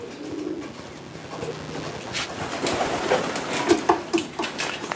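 Pigeons coo softly at close range while sunning outdoors in the morning, their low murmuring calls repeating among light outdoor background noise.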